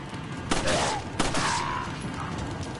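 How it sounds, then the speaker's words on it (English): Gunfire in Resident Evil 4, two loud close bursts about half a second apart, each trailing into a ringing decay over a noisy game background. "Shoot him, Leon."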